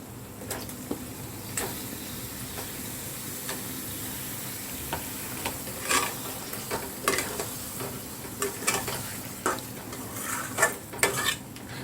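Paneer fries in oil in a kadai for a restaurant-style kadai paneer, with a low continuous sizzle under scattered metallic clinks and scrapes of a utensil against the pan, loud and close.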